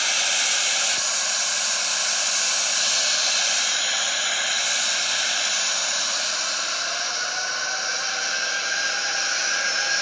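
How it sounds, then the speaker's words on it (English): A continuous jet engine roar with a broad hiss builds steadily, a simulated Southwest Airlines airliner taking off in a flight simulator game; loud and unbroken throughout. "The plane started its taking off."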